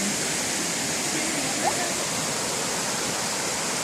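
A river swollen after a rainstorm rushes in a steady, loud, broadband roar near Caisan, Panama, close by and unbroken, with no other sounds standing out.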